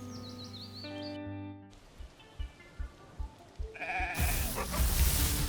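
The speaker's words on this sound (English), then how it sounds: "A poison type Band Sheep." A Band Sheep, a poison-type monster in the video game Cassette Beasts, gives a warbling, bleat-like cry over game music, followed by soft thumps and a loud, bright burst near the end.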